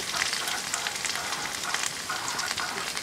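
Dry ground spices, including turmeric, chili and coriander powder, sizzle steadily in hot oil with ginger and garlic paste while a spatula stirs them, giving a constant close crackling hiss throughout.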